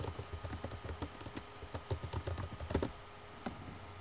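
Quick, light keystrokes on a computer keyboard as a password is entered, a close, irregular run of clicks for about three seconds with a final isolated tap.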